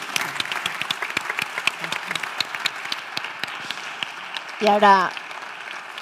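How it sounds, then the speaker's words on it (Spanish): Applause at a conference on emotionally healthy organizations and mental health, scattered sparse claps continuing at moderate level, and a voice briefly speaking over them near the end. "Por favor, un fuerte aplauso"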